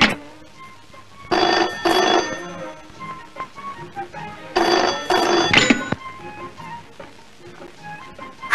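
A telephone rings in two loud bursts, each a pair of bright, shrill rings, separated by quiet gaps with faint background tones.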